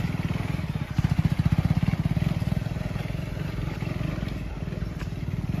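A motorcycle putters along off-road with a steady, pulsing engine thump and rattling clatter, close and moderately loud with no clear talk.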